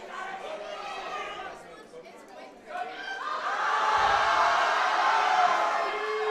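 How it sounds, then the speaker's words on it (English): Crowd at a high school powerlifting nationals meet cheering on a lifter, a rising wave of chatter and shouts that swells louder in the second half, with a commentator talking over it. "Crowd getting behind him."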